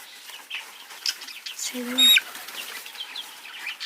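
A hen with watery, closed eyes clucks once, a brief near call amid quiet chirps and faint indistinct voices in an indoor setting.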